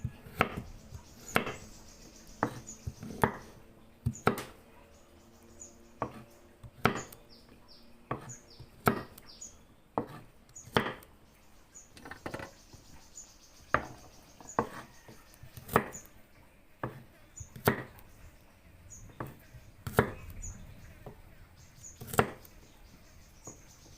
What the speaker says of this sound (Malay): Potong kasar-kasar je sebab kita nak blender ya.